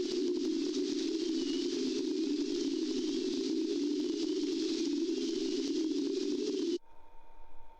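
Eerie entity noise of autumn vines in the horror game Home Safety Hotline, a steady loud rushing, hissing drone with a strong low hum that cuts off abruptly near the end, leaving a faint tonal residue.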